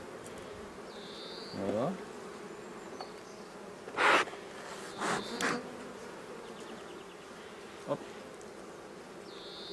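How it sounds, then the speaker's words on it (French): Honey bees buzz around an open beehive while a beekeeper works the frames to add a super, with soft steady humming, a few closer bees passing by, brief knocks and handling sounds, and a couple of short spoken words. "Un petit coup pour faire descendre les abeilles."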